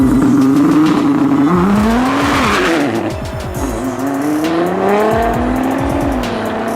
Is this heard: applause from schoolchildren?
no